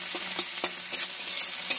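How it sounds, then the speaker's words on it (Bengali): Green chilli and coriander frying and being stirred in a pan, a steady soft sizzle with a spatula scraping at a regular beat, up close and alone. "দিয়ে ভালো করে একটুখানি ভেজে নিচ্ছি।"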